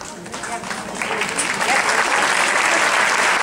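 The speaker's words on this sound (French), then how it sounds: "Je vais l'applaudir bien fort." Audience applause at a dance gala swells from moderate to loud, a dense wash of clapping filling the room, with a voice speaking over it at the start.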